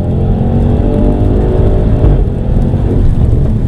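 A 2013 Audi RS6 Avant tuned to about 760 bhp gives a loud, close, sustained engine roar that holds steady throughout.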